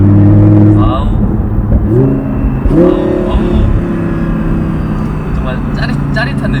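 Audi R8 V10 Spyder with the roof open, its engine revving and accelerating loudly up close, pitch climbing in repeated surges over steady road and wind noise.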